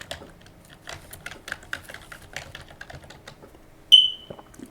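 Quick, uneven keystrokes on a computer keyboard clatter for several seconds at close range, ending with a short high electronic beep.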